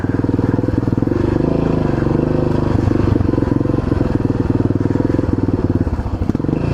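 A Yamaha XT600 motorcycle idles roughly and unevenly out in the bush, a loud, close, continuous engine chug with a ragged, sputtering pulse throughout.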